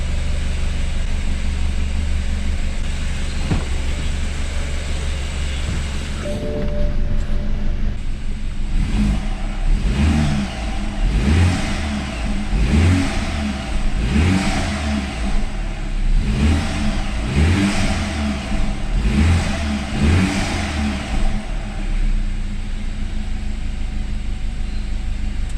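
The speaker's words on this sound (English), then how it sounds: "The engine seems to run okay." A rebuilt BMW engine idles steadily, then is revved repeatedly in a regular series of sharp blips that rise and fall, loud and close with no talking.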